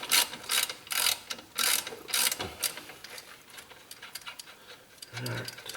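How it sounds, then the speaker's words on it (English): A socket and ratchet loosening 16 mm brake caliper bolts on a 2001 Ford Mustang GT convertible, a run of fast ratcheting clicks in bursts, close and fairly loud, with a short pause and a final burst near the end. "So we're just doing it old fashioned with the socket and the ratchet."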